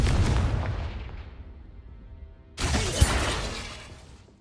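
A fiery Confringo or Bombarda spell in Hogwarts Legacy bursts with a heavy blast that rumbles and fades, then a second sharp, crackling explosion erupts and slowly dies away.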